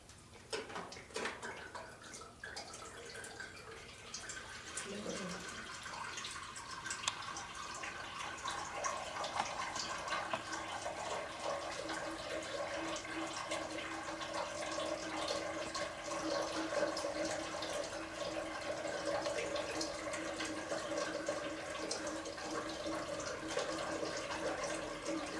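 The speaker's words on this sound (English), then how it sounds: "the water is rushing out of the bottle in my hand" Water rushes and gurgles steadily out of an upside-down bottle held by hand in a science race of liquids, a continuous faint splashing flow that persists alone for the whole stretch.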